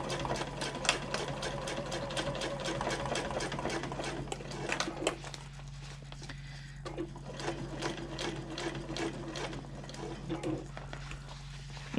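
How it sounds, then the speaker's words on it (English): A sewing machine back stitches and then stitches forward on a handbag's exterior, fitted with a narrow foot beside stabilizer. A rapid, even run of needle taps gives way to slower, uneven bursts, and soft voices sound faintly underneath. "I'm going to back stitch at the start"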